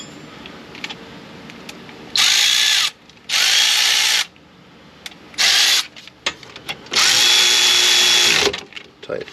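Power tool tightening the bolts on a 2013 Buick Enclave rear brake during a pad and rotor job: four loud whirring bursts with short pauses and faint clicks of handling between them.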